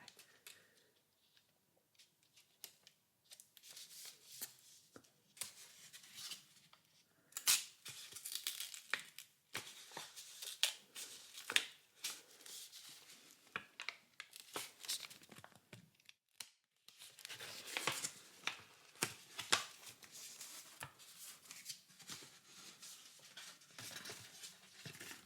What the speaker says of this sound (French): Petit papier doré. Just like Willy Wonka's chocolate